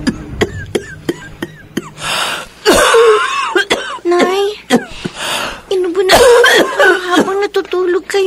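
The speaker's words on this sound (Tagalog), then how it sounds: "Nagising kayo dahil sa pag-ubo." A person coughs repeatedly in close, sharp bursts, with throat clearing and wheezy breaths between fits, loud and near.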